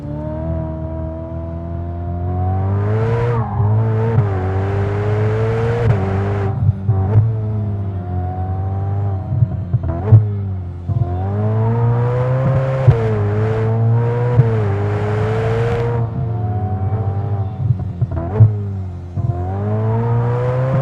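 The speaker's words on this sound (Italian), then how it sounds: "lascio di nuovo la parola al V8 qua dietro" A Ferrari F8 Spider's turbo V8 revs and drones steadily nearby, its pitch rising and falling repeatedly with throttle blips, no talking.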